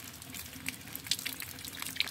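Water running from a handwashing tap beside a vegetable plot of mustard greens, a soft continuous splashing trickle with a few brighter drips standing out, fairly quiet and alone.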